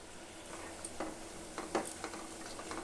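Crushed almonds, peanuts and dry coconut fry in ghee, a soft, steady, quiet sizzle broken by light scraping taps of a spoon stirring the pan, with no talking.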